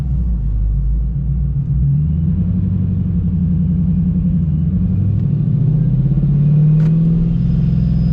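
A Ford Mustang pulls out of a driveway and rolls down a residential street, its engine and suspension giving a loud, continuous low rumble up close, with no talking.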